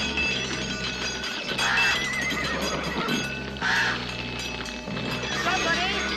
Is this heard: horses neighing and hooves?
yes